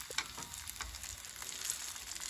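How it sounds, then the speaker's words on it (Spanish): Onion fries in a pan with a soft, steady sizzle and faint crackling pops, quiet and close, with no talking over it. "Ahí lo dejamos un ratito a que se le cocine la cebolla."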